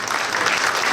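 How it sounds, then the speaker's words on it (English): Community audience at the Sayyidah Khadija Center fundraiser for Toronto-area hospitals breaking into steady, dense applause, loud and sustained through the short moment with no talking. "give yourself a round of applause"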